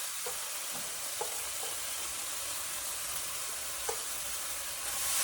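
Ghee sizzling in a pan on the stove, a steady broadband hiss with a few soft stirring clicks, no talking.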